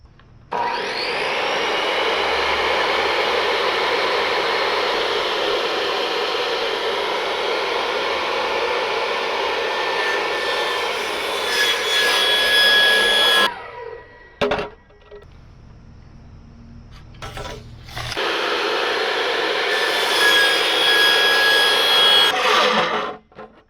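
A power tool cuts pipe to length for a rooftop pressurised hot water storage setup, giving a loud, sustained close-up whining grind that stops for a few seconds with some clatter, then starts again and runs to the end.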